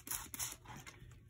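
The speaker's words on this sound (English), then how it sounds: "get a spray bottle, hit it with some water" A spray bottle mists water onto a curled sheet of art paper in a few quick, quiet hissing bursts, each a soft pump-and-spritz close to the microphone with short pauses between.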